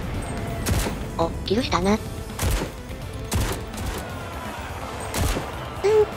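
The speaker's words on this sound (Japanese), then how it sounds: "それじゃしゃがみ状態で射撃していくよ。" Gunfire in the WWII shooter Enlisted, a Soviet soldier firing a scoped rifle from a crouched position during the battle for Berlin: several sharp, loud single shots spaced roughly a second apart, with brief speech and battlefield noise between them.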